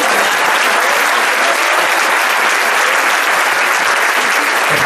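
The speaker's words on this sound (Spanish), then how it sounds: "Dale un aplauso al Señor." A church congregation applauds during a Spanish-language sermon, a loud, dense, steady roar of clapping that fills the whole clip and cuts off sharply at the end.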